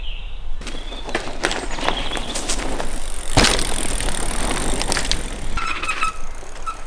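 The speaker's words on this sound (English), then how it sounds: "the brakes are so squeaky" Mountain bike ridden through a bike park trail, with rough tire rumble over dirt and intermittent high squeals from squeaky brakes, plus rattles and clatter, fairly close and continuous without talk.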